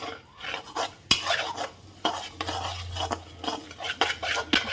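Poppy seeds dry-roast in a pan without oil while a spoon stirs and scrapes, producing irregular metallic clinks and gritty rasping strokes with a faint low hum beneath, close and alone without voices.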